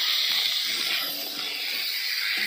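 Ginger hisses in hot oil alongside chicken in a pan, a steady, fairly loud sizzle that holds evenly with no voices over it.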